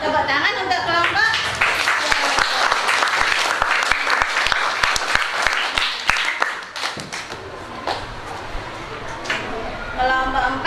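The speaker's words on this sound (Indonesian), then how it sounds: "Tepuk tangan untuk kelompok." A classroom of students claps for a group, brisk close applause from many hands mixed with chatter and voices, tapering off briefly before talking resumes.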